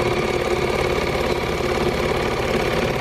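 A welding machine's wire feed motor hums steadily as it retracts, a continuous mid-pitched mechanical whir with a faint rapid rattle, close and unbroken throughout.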